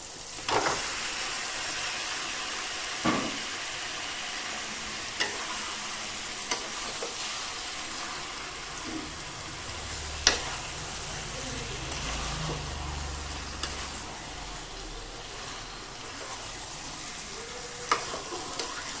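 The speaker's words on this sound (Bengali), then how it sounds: "মশলার সাথে মাংসটাকে বেশ কিছুক্ষণ ধরে কষিয়ে নেব" Chicken sautéing with spices in a pan over a steady, continuous sizzle, with occasional sharp scrapes and clinks of stirring spread through the clip.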